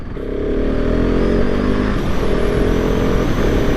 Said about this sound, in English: So that's me shifting without the clutch there.